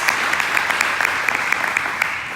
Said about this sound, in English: give that band a round of applause again